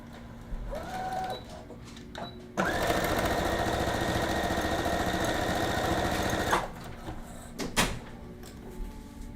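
A sewing machine stitches shoulder seams in one steady, loud run of rapid mechanical whirring lasting about four seconds, with quieter handling clicks and rustles before and after.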